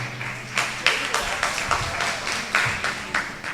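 Audience applause at a local political debate, a burst of clapping with individual claps audible in an uneven rhythm, moderately close, with a voice talking over it.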